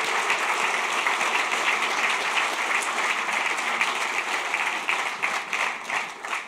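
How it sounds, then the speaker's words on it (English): Sustained applause from a conference audience in Tokyo, dense steady clapping that holds evenly and begins to thin and break up toward the end. "Let's give Roger one more hand of applause for that."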